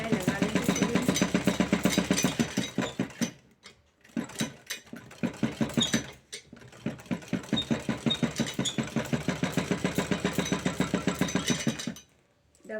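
A sewing machine stitches blouse fabric in fast rhythmic runs of close mechanical clatter, with a couple of short pauses in the middle before stitching resumes steadily.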